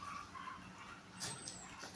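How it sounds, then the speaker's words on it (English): A puppy indoors whimpers and gives a few short high yips, faint and somewhat distant, amid quiet background noise. "I can hear that puppy going mad."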